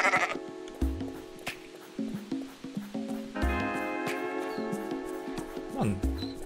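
Goat bleating in the video game Wolfstride, a series of wavering harmonic bleats repeated over several seconds amid game music and sound effects, fairly loud and close.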